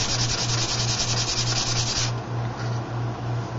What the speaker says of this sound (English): I'm gonna sand this blade a little bit more with the thin sandpaper